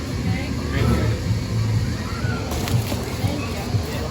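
Water sloshes and splashes continuously at a waterpark, close and fairly loud, with a brief burst of splashing midway and talk mixed in underneath.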